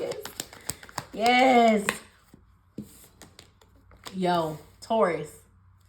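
Tarot cards being shuffled by hand, a series of sharp, close papery clicks and riffles at the start and between short bursts of someone speaking.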